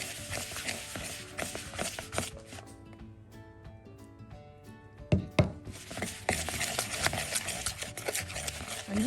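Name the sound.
mixing cheese scone dough with a knife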